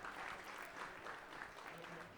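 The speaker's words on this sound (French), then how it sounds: "il sort sous les applaudissements du stade" Stadium crowd at a lower-division football match applauding a tired, cramping player as he is substituted off, a continuous spread of clapping with a faint murmur of voices mixed in, lasting about two seconds.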